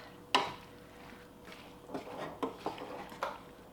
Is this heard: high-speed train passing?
no